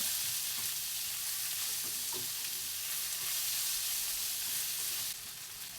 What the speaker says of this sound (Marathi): मोठ्या गॅसवरती 1-2 मिनिटं छान परतून घेऊया